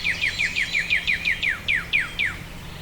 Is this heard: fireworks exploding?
no